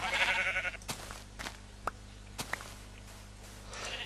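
Painted sheep in Minecraft give several short bleats spaced across the stretch, with soft game footstep taps and ambient noise between them and no talk over them.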